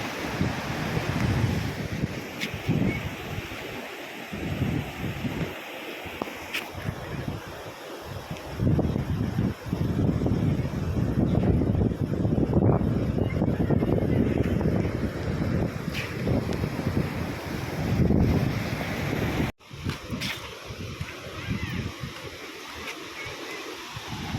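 A river swollen after heavy rain rushes past in a broad, continuous roar of moving water, loud and close, with gusts of wind buffeting the microphone throughout.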